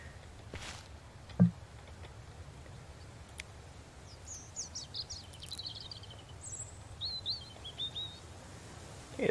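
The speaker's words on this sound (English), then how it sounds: "As long as those birds are singing, we're all good." Birds sing in the Mist Survival game world, a scatter of short chirps and twittering phrases, fairly faint and distant, over a quiet ambient background with a few soft thumps.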